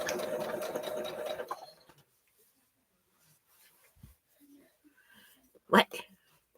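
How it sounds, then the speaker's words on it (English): A home sewing machine runs in a fast, buzzing burst close by for about a second and a half, then stops, leaving a quiet room with faint breaths and a brief noise. "as soon as she hears the sewing machine"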